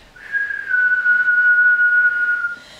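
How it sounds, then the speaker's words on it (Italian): A single steady whistling exhale through pursed lips during a yoga breathing exercise, a clear sustained tone lasting about two seconds, close and alone. "Labbra esterne, un forellino piccolo e esce un suono chiamato respiro del fischio."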